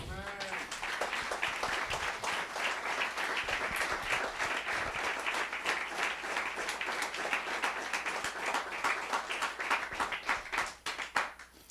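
A church congregation claps together during a sermon, loud continuous applause from many hands lasting around ten seconds, crisp individual claps standing out before it tapers off at the end.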